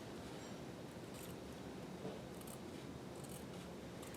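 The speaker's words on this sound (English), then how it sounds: "So I'm just going to cut" Scissors cut through fabric in a soft, faint, continuous snipping and rustling, close by, with a few slightly sharper crunches along the way and no voices.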